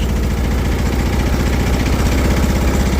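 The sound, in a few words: Gravely tractor engine revving with more gas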